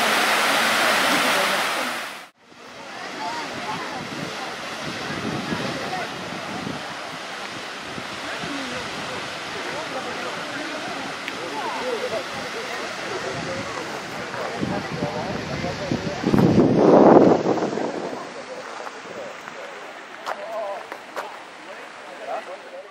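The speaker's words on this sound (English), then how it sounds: "And now I'm back by this water fountain" Water fountain at Schönbrunn Palace in Vienna, a steady rushing splash of falling water heard close and continuous, with a brief loud burst at the start, some wind noise and voices in the background.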